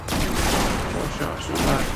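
Rapid bursts of gunfire from a Destiny 2 Warlock firefight on Mars, dense and loud, filling the whole moment with overlapping blasts.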